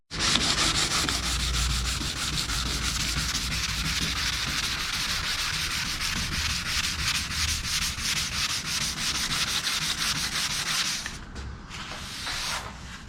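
Close, steady sanding of car body paint with orange peel texture, a continuous raspy scrubbing that runs unbroken for about eleven seconds before stopping, with no voices.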